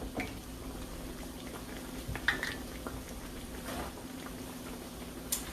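Fresh salmon croquettes fry in a pan, a soft steady sizzle and bubbling of hot oil with occasional small pops, quiet and continuous throughout.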